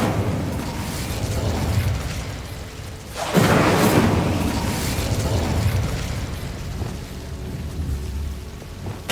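Incendio fire spell cast in Hogwarts Legacy, a loud whooshing burst of flame that swells suddenly and then rumbles and crackles over a continuous game background.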